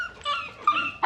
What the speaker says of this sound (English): She hears the barking.